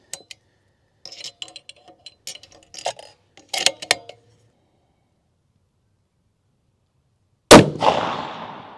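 A single sharp rifle shot fired at a steel 1 MOA target on a shooting range bursts out loud and close, trailing a short decaying ring, after several seconds of faint clicks and handling noises.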